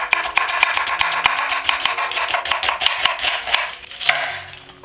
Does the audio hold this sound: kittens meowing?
no